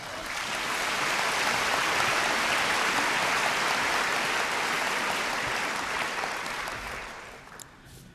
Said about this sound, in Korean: 뜨거운 박수를 부탁을 드립니다